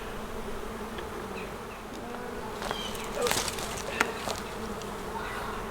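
Honey bees buzz around an opened hive during a backyard inspection in North Port, Florida. The hum is close and continuous, with individual bees swelling louder as they pass near.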